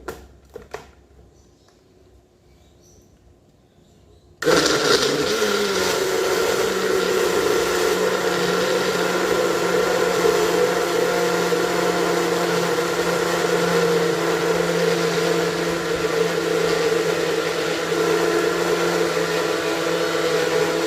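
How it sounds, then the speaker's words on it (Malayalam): A blender running on a protein shake with apple, banana and blackberries, starting abruptly after a few seconds of near-quiet, then a loud, steady motor whir with a churning hum for the rest of the clip. "നമുക്കിതിനെ ഒന്ന് അടിച്ച് മിക്സ് ആക്കാം."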